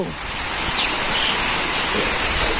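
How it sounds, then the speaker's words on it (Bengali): Monsoon rain pours down steadily in a rural village, a loud, dense, unbroken hiss close by, with faint bird calls slipping through. "তারপর বৃষ্টি নামলো"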